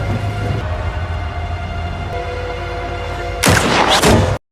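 A sniper rifle shot in a film lands as a loud, sharp burst over a low, droning score, then cuts off abruptly into silence.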